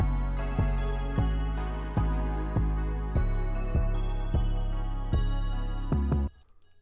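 Deep 808 bass hits pulse in a steady rhythm under a bright bell melody in FL Studio, ending abruptly into near silence.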